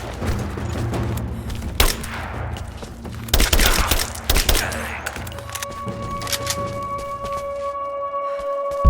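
Covering gunfire in Rise of the Tomb Raider, a loud close fusillade of rapid shots and thudding booms in clustered volleys, then tapering off under a sustained musical tone.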